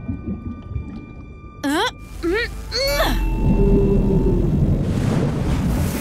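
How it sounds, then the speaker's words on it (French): Cartoon sound of a gray whale blowing through its blowhole: a few swooping whale-like calls, then a loud sustained rushing whoosh of spray that continues to the end. "J'ai fait peur à une baleine grise et elle t'a soufflé par son évent"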